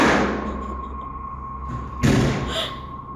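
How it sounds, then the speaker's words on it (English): An interior door slams shut in another room with one abrupt thud partway through, following a steady background hum. "the door from the other room has slammed shut again"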